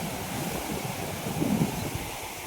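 Rushing red, muddy floodwater roars steadily and continuously during heavy monsoon rain in Konkan, a broad, wind-like wash of moving water with no voices.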